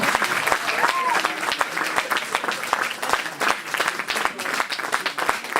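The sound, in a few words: audience applause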